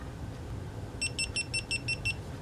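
A camera's electronic beeper sounds as it is switched off, emitting about seven short, evenly spaced high-pitched beeps in quick succession over a quiet workshop background.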